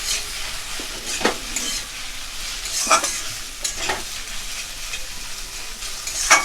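Egg and potato fry together in a pan for dim alu bhujia, a steady sizzle with a few sharp spatula scrapes and stirs spaced a second or so apart.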